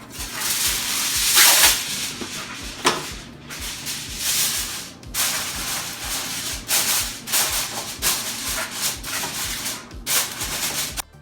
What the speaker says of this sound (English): I'm just gonna cover it in foil and place it in the oven